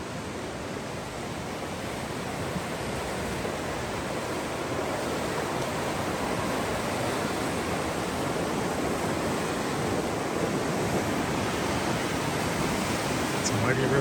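A mighty river flows beneath a bridge, a broad, constant rushing roar like surf, steady and loud throughout with some wind on the microphone.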